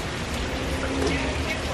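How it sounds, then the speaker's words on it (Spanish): Steady, dense rain pouring down, a constant broadband hiss with no breaks, fairly loud and close. "acá se vino la lluvia bien fuerte ya"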